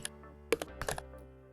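Computer keyboard typing code during a Python programming lesson: a few separate clicky keystrokes and a short burst of taps, close and fairly quiet, with no talking.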